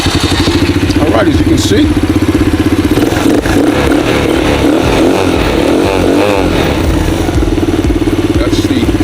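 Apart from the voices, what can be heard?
Blazer 9 125cc Chinese ATV engine starting and idling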